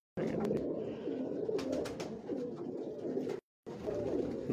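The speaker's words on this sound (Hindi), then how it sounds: "ये है जी डब वाले कबूतर" Dab pigeons on a rooftop in Lahore coo in low, repeated rolling calls, close and steady, with a brief break near the end.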